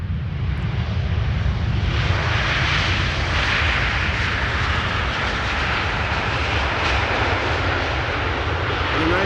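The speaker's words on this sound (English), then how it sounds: "This is American Airlines flight 204, having landed here now," A steady, loud roar of a jet airliner's engines fills the air just after American Airlines flight 204 from Philadelphia lands at Amsterdam Schiphol, continuous and close throughout.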